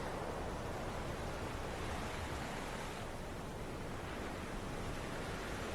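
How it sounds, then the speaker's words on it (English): Waves rolling against an old wooden ship in Sailaway 3, a steady broadband wash of water and surf that keeps going without a break, with no voices. "We're hitting these waves. They're rolling pretty good out here."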